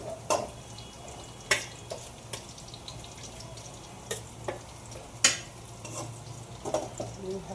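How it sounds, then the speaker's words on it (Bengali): Potatoes frying in a pan and stirred now and then, with sharp intermittent scrapes and taps of the utensil over a low background hiss and hum. "গরম গরম আলু ভাজা"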